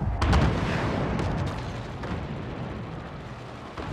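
Weapon fire and explosions in the video game Forts: a loud booming blast at the start followed by a rumbling, crackling barrage that fades into a continuous roar.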